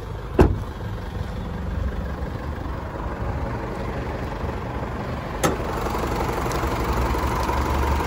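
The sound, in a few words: 2016 Isuzu MU-X engine idling, bonnet open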